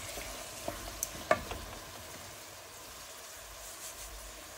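Onion and panch phoron spices fry in oil for a minced-meat and mixed-vegetable dish, a faint, steady sizzle broken by a few small clicks and clinks, with no voices.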